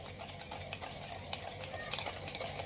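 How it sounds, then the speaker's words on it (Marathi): Powdered sugar and ghee whisked together in a bowl for a rava cake, giving a soft, continuous scraping and ticking stir at close range, with no talk. "आता आपण याला व्यवस्थित फेटून घेऊया."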